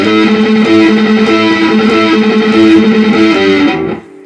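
Distorted electric guitar with a rock tone plays a riff, loud and sustained with ringing chords for about four seconds before it cuts off.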